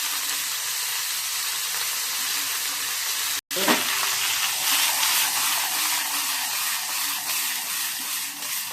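Cumin seeds and dried red chillies sizzle and crackle in hot oil, a loud continuous hiss with a brief stir partway through.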